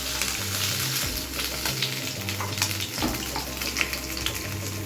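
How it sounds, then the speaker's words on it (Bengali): Tangra fish sizzling and spitting in hot oil in a pan, a steady crackling fry that runs close and continuous with small bursts of spatter throughout. "এবার একে একে সমস্ত মাছগুলোকে ভেজে নিই।"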